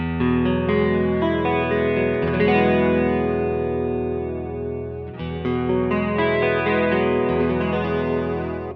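A distorted guitar through a Fromel Seraph Stereo Chorus pedal, its second switch changed, plays sustained chords with a shimmering, wavering modulation, pausing briefly around the middle before continuing.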